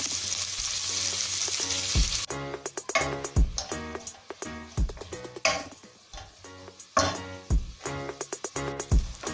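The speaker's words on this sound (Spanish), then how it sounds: "Añadimos la cebolla y a fuego bajo vamos cocinando" Onion sizzles gently in a pan over low heat for chicken soup, with a steady fry hiss broken by repeated close stirring scrapes and clinks of a utensil against the pan.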